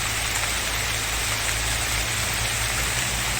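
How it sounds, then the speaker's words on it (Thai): Heavy rain pours down steadily, a dense, loud, broadband hiss of drops on surfaces with no break and no voices. "ฝนตกหนักเลยครับช่วงนี้"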